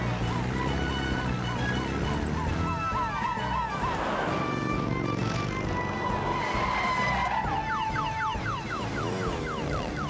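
Cartoon vehicles race faster and faster in a firefighter rescue chase, with loud continuous engine roar and squealing, skidding tires, layered with siren-like tones and music throughout.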